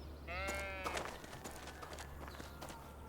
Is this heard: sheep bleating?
yes